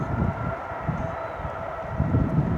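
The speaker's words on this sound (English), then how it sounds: "as you can hear, railway line's not far away now" A train rumbles along the nearby LNER main railway line on sandy heathland, a moderate continuous rolling drone with low pulsing swells, heard from a short distance with no talk.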